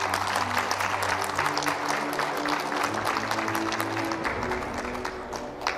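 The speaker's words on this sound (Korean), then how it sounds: "큰 박수로 맞이해 주시기 바랍니다." An audience at a forum on hydrogen hubs and green industrial complexes claps to welcome a speaker to the stage. The applause is steady and sustained, then tapers slightly at the end.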